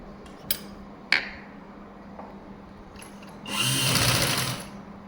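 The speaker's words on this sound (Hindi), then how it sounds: "कपड़े को हाफ इंच मोड़ते हुए और लेस को हम सिलाई लगा देंगे।" A sewing machine stitches lace onto a folded blouse sleeve edge, with a couple of sharp clicks early on, then a loud steady whir lasting about a second and a half.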